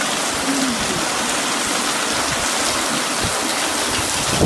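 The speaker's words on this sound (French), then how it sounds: "C'est de la grêle." Hail falls without pause through a violent, windy February thunderstorm in Montoison, a steady wash of close, crackling patter with scattered sharper hits.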